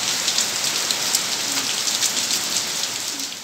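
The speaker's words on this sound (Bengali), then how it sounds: "আর এই মুহূর্তে বৃষ্টি নেমে গেছে" Heavy rain from Cyclone Remal pours down steadily, a dense, close hiss of drops striking surfaces that runs without a break. No one speaks.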